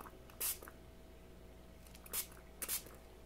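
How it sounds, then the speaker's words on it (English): A spray bottle spritzes onto fabric during a fabric painting project with photo paper: a few short, soft hissing bursts, one early and a pair later, fairly faint against a quiet room background. "I think I'm going to spritz that one time"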